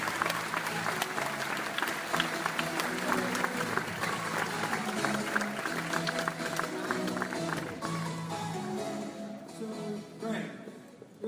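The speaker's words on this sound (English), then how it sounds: "Let's give him a nice little round of applause." An audience claps and cheers to welcome Zillow executive Greg Schwartz onto a stage, a lively burst of applause with crowd noise and voices mixed in that gradually thins out toward the end.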